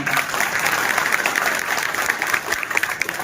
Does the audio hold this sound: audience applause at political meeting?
yes